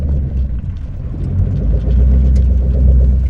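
A Ford Mustang's engine rumbles and builds in revs as it tries donuts or a burnout, a loud, close, low growl that swells toward the end with no talk.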